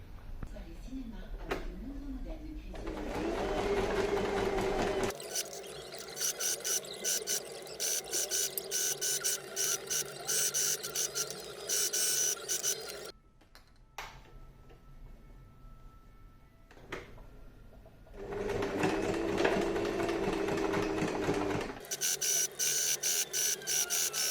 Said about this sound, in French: On va donc pouvoir passer un point sur le haut au plus près de la fermeture avec le pied presseur spécial fermeture.